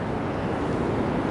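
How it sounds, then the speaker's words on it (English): Ocean surf washing below coastal cliffs along an old coast road, a steady broadband rush of waves mixed with wind noise, continuous and moderately loud with no clear individual breaks. "Ocean."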